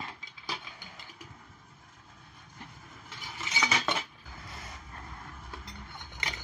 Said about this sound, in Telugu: ఇది ఒకటొకటి అన్నీ తీసుకొని గిన్నెలో పెట్టుకుందాము